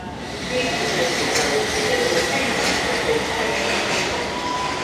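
A London Underground Circle Line train pulls into the station, its rumble and wheel squeal rising after a quiet start and holding loud and close in the echoing underground platform.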